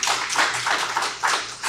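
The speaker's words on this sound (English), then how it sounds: "one round of applause for Robert and Zeus" A small group at an incarcerated dog-trainer graduation claps in a short burst of irregular, close claps that thins out quickly.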